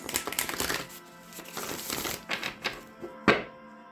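Tarot cards riffle and slap together in quick, crisp bursts, followed by a few softer shuffles and a sharp snap near the end, close up and quiet.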